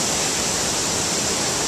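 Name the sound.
waterfall roaring in a jungle near Boquete, Panama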